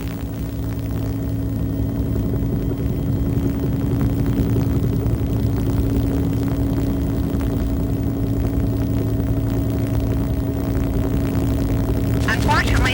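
Helicopter carrying the Our Lady of the Rockies statue sections up the mountain above Butte, a steady low engine and rotor drone with strong tonal hum, continuous and fairly loud throughout.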